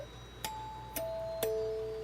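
A workshop electronic doorbell sounds three chime tones about half a second apart, each sharp strike ringing on into sustained overlapping pitches, fairly clear and close with no talking over it.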